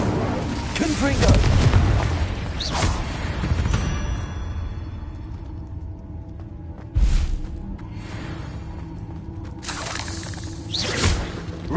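Confringo explosive spell in Hogwarts Legacy: booming blasts and whooshing impacts recur through the span, loud with deep rumble, with a voice talking over parts of the game sound.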